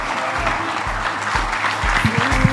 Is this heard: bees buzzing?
no